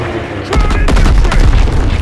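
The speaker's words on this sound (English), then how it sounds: "There's the flak gun!" A flak gun fires in a Call of Duty: WWII battle, with loud heavy booms and rapid bursts layered over ongoing gunfire and combat noise.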